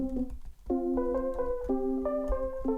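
A keys sound played in Logic, close and clean: a short melodic phrase of sustained, layered chords that change roughly every half second over a soft low pulse.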